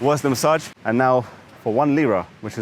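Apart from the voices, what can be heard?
None of the usual background noises is heard.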